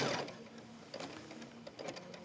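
An embroidery machine stitches an in-the-hoop sticky note pad holder, a faint, soft mechanical whirr with light irregular clicks and taps from the stitching mechanism.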